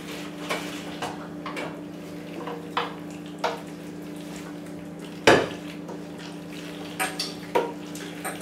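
Spinach and artichoke mac and cheese being spooned from a pot into a greased 13 by 9 baking dish: scattered metal spoon scrapes and clanks against cookware over a low steady background hum, one louder clank midway, no talk.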